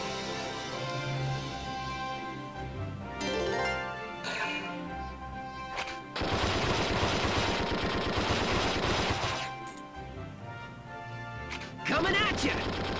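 Gunfire in the Valkyria Chronicles II video game comes in loud rapid bursts, a long one in the middle and a shorter one at the end, between quieter stretches of game sound.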